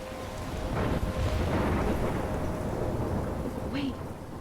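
A thunderstorm in the video game Life is Strange, with heavy steady rain and a long, loud rolling thunder rumble filling the scene, plus a brief higher whoosh near the end.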